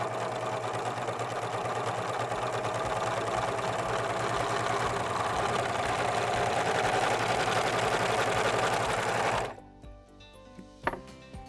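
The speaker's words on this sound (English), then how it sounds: "I'm just going to allow the machine to cut some fabric off" An American Home serger runs steadily while cutting fabric, a loud, continuous mechanical whir close up for about nine seconds. It then stops abruptly, leaving a few faint clicks.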